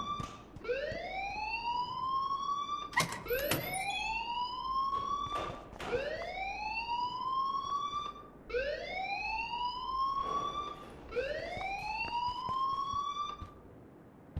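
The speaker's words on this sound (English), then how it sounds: "please turn off that alarm since that's your job." School alarm ringing in the video game Life is Strange, a loud wailing tone that rises and sustains in repeated cycles of about three seconds, with occasional sharp clatters.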